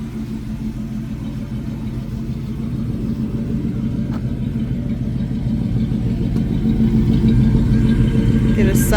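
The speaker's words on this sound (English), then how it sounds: "Exhaust sounds good." A 1977 Chevy K20 pickup truck idles with a steady low exhaust rumble, growing slightly louder over time, with a faint voice briefly in the background.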